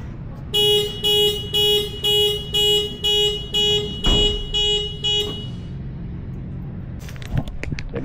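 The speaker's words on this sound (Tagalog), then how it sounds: "nag-alarm siya idol. Hindi ko na-open." A 2019 Toyota Wigo car alarm blares in close, loud repeated electronic beeps, about nine evenly spaced pulses, then stops; someone speaks over the tail end amid outdoor background noise.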